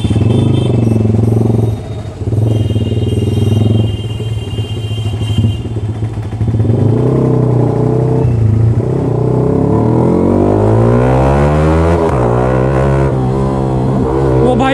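A Yamaha R15 V3 motorcycle with a loud SC Project aftermarket exhaust rides through city streets. Its raspy engine note holds steady, then climbs in rising rev sweeps, loud and close throughout.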